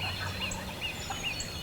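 A wild turkey hen yelps outdoors in a quick series of repeated calls at moderate distance, over a steady background hum.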